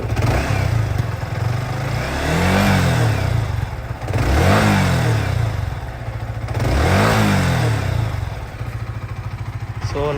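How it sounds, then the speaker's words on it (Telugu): A Yamaha R15 V3 motorcycle engine, after 40,000 km and an engine flush with petrol and oil additive, runs at a steady idle, with three rising revs swelling loud and close over the rumble. "మన బైక్ ఐడియల్ స్టార్ట్ సౌండ్ అయితే చూద్దాం ఇప్పుడు"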